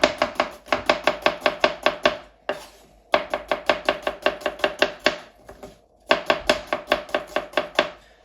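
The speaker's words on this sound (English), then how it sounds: "Now you have all of these chopped onions, which is really easy." A knife chops onions on a cutting board in fast, rhythmic bursts of sharp, close thuds, three runs separated by brief pauses.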